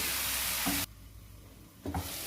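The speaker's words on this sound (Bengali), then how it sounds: "পাঁচ মিনিটের মতো ঢেকে ভেজে নেব" Potato and eggplant fry in a pan with a dense hiss that drops sharply to a muffled low sizzle for about a second while covered, then swells back with clattering stirs.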